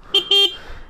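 A Honda Shine 125 motorcycle horn (2021 BS6 disc model) sounds two short, loud, close honks, the second held a little longer, with a quiet pause between them and no voices.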